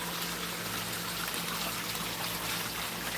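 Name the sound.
water trickling in a pond garden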